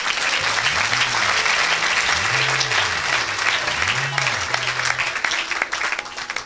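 A church congregation claps and cheers in praise, sustained dense applause filling the room while a voice sings or calls out over it in rising and falling phrases.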